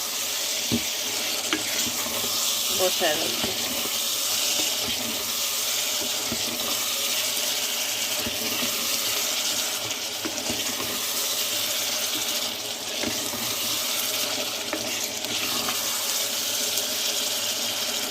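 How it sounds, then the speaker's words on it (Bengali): Water is poured into a pan of sautéed curry base spiced with salt, turmeric, chili, ground coriander and ginger, giving steady close sizzling and bubbling over a running hiss, with brief soft speech. "এখন এই যে কষিয়ে নিয়েছি এখন এখানে আমি পানি দিয়ে"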